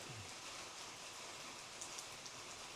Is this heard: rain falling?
yes